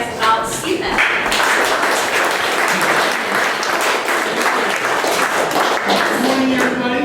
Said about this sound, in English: please give a warm round of applause to Chris coming up